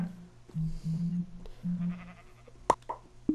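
Sheep in the video game Minecraft bleat in a run of short, close, rhythmic calls, followed by a few sharp clicks and knocks.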